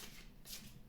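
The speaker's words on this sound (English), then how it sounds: "so now I'm just shuffling some tarot cards" Tarot cards are riffled and shuffled by hand in one short, quiet burst of crisp papery flutter, heard alone.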